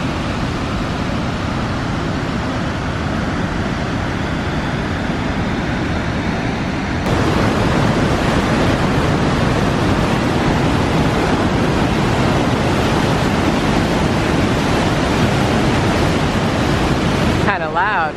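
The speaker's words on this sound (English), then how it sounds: "Look at how roaring the river is down there." A river roars in a constant, dense rush of water that grows noticeably louder partway through and never lets up.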